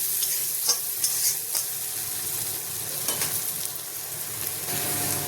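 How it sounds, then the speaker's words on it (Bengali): Onions with a little turmeric fry in a pan, giving a steady loud sizzle throughout, broken by several scraping stirs of a spoon, with no talking. "পেঁয়াজটা লাল করে ভেজে নেব।"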